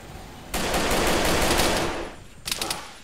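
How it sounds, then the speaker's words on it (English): A sustained burst of rapid automatic gunfire from an emplaced machine gun in the video game Arma 3 (Unsung), jungle setting, loud and close, cutting off and then a second short burst follows. "No, I think it's just an emplaced machine gun."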